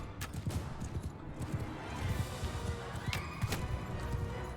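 Cavalry horses gallop in a Mount & Blade 2: Bannerlord battle, with dense clip-clopping hooves, a neighing whinny and scattered clashes of combat under a constant battlefield din.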